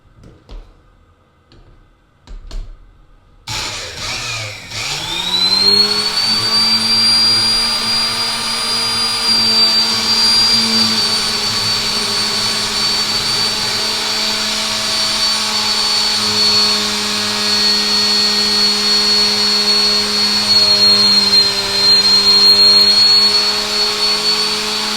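A Sioux 645 valve face and seat grinder with a diamond dressing tool starts after a few quiet knocks and settles into a loud, continuous whining motor hum with a high steady tone.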